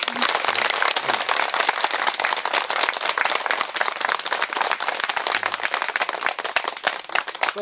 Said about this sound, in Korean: 박수를 세게 치보세요.